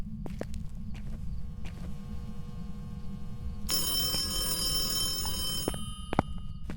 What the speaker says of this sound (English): It's ringing the phone in the other room.